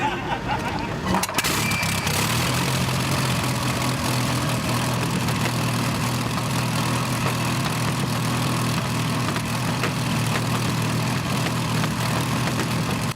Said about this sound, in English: The Napier Lion is a 12-cylinder, petrol-fueled broad Aero W12 configuration aircraft engine